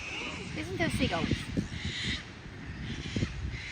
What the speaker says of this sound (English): Listen to the seagulls.